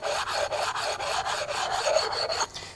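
Abrasive pad soaked in WD-40 rubbed back and forth over a 6.0 Powerstroke diesel engine part, giving a steady, close scratchy rasp in even strokes that stops abruptly near the end.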